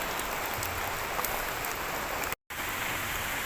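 Constant rain hisses evenly near the Widuri waterfall in Grobogan, Central Java, broken by one brief cut to silence before the downpour continues.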